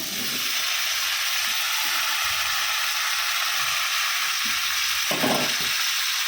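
Onion and new potatoes frying in a pan, a loud steady sizzle with occasional stirring scrapes and a brief burst of stronger crackling near the end.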